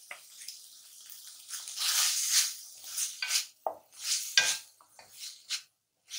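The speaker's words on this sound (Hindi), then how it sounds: "अच्छी तरह इसकी भुनाई कर लेंगे" Chicken being stirred and fried with a little oil in a pan, metal spoon scraping and clinking against the pan in bursts between quieter pauses, close, no talking.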